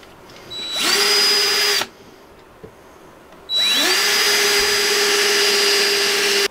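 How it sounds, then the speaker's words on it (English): A power drill drilling through double-thick metal in a car, whirring up to speed twice, a short burst then a longer sustained run, loud and close, with a quiet pause between. "you're drilling it first with a smaller drill bit"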